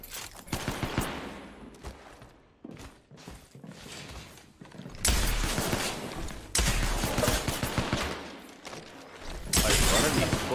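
Bursts of PK machine gun fire in a video game, loud and close, with long sustained volleys cut by short pauses and a dense, rattling rhythm that fills the whole stretch.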